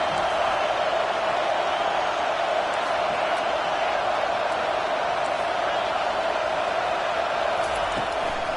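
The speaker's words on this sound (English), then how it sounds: "Here comes this home crowd as the defense tries to get off the field on third down" A steady roar of a home crowd cheering in the NCAA 25 college football video game during a third-down defensive stand, a dense, continuous wash of noise with no breaks.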